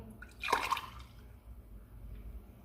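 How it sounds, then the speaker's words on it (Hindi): Strained watermelon juice pours into a glass in one short liquid splash, close and soft, followed by faint dripping. "अब हम इसे गिलास में डालेंगे।"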